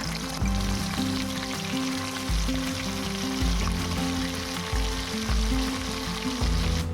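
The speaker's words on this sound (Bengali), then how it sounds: "প্রথমে মাছগুলোকে সেঁকা তেলে অল্প অল্প করে ভাজা করে নিতে হবে" Fish pieces for a Bengali fish kalia fry a few at a time in hot oil, giving a loud, continuous crackling sizzle over a low droning hum throughout, with no voices.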